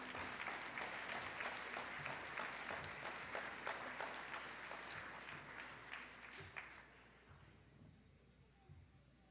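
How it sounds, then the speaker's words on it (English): A large audience applauds steadily at a 2022 commencement ceremony, a dense wash of clapping that gradually thins and fades toward the end. "So give all of you a big round of applause and a thank you to you"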